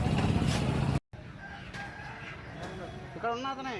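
A rooster at a poultry market crows once near the end, a loud, close crow with a rising and falling tone, following market clatter and background noise.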